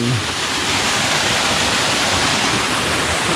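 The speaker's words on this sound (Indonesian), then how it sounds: "Ini dia tadi air terjun Watu Talang atau air terjun Tempuran." A loud, steady roar of falling water from Watu Talang (Tempuran) waterfall on the slopes of Merbabu, Boyolali, fills the whole clip, a dense unbroken rush with no other sounds.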